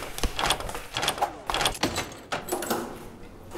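A door opens in a video game with a series of clunking, scraping mechanical knocks and rattles spread over a few seconds.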